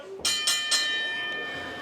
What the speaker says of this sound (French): Et la cloche sonne!